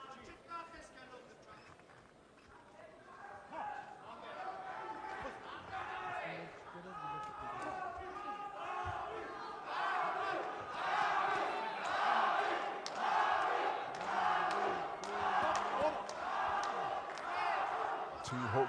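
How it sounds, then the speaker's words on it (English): A boxing crowd at a fight cheering and chanting in loud rhythmic waves that swell toward the end, with a commentator talking over it. "the crowd making their presence felt once again as they continue to encourage Dawid Çalyan"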